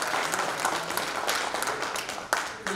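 Audience applause at a high school baseball year-end gathering, steady continuous clapping from a crowd of parents held at moderate level for a few seconds with a couple of sharper claps near the end.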